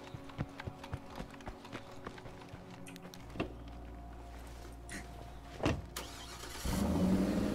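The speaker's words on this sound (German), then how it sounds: "Ich müsste hier mit dem Auto überfahren." A car in the zombie video game State of Decay 2 starts up and drives, with a string of clattering knocks and thumps, a low engine hum and a louder revving rush near the end.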